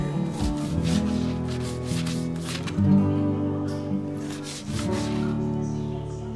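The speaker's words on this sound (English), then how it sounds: "I'm gonna make some slices here." A knife saws back and forth through a smoked Texas-style brisket cooked on a REC TEC Trailblazer pellet grill, giving repeated close, rasping strokes with a brief pause near the end before cutting resumes.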